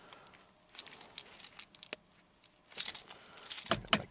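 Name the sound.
car keys jangling while trying to unlock car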